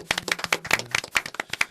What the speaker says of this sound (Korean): 우리 두 분에게 박수 한번 보내도록 하겠습니다